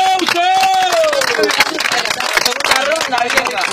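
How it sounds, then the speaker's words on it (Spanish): An audience cheers and claps at a rap battle, a dense crowd roar with scattered applause. A loud voice shouts over it near the start. "¡Aplauso!"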